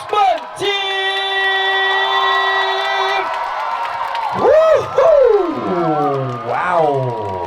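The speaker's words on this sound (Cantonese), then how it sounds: "再繼續保持住你哋更大嘅掌聲、歡呼聲，送俾佢哋 CU 嘅 Freshman Team" A crowd cheers for a university freshman dance team at a mass dance event, with loud sustained whoops and high rising shouts over a steady roar of voices that swells again near the end.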